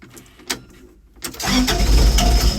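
Forklift engine starting on a cold morning: a couple of faint clicks, then a brief cranking whir that catches into a loud, rumbling idle, close by and continuing to the end.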